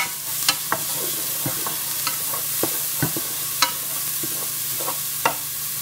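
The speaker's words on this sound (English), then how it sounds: "Alright, let me mix this around." Garlic and oregano sizzle steadily in a hot pan while a utensil stirs them, with sharp scrapes and clicks at irregular intervals over the constant frying hiss, close and fairly loud, no voices.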